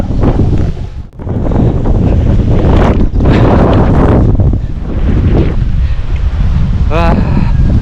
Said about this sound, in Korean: 바람도 많이 불고 시원하고